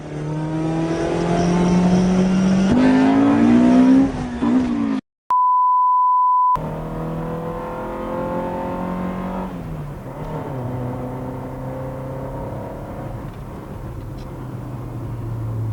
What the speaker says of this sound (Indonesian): VTEC kicked in, yo.